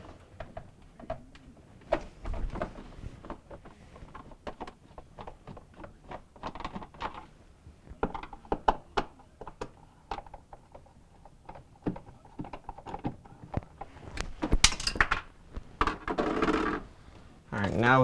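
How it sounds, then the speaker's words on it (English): Quiet, close metallic clicks and light clatter from a screwdriver taking four Phillips screws out of the back panel of a Samsung refrigerator, scattered irregularly over the span with a few sharper taps. "we're going to go ahead and take our four Phillips screws out that are holding the back panel in place"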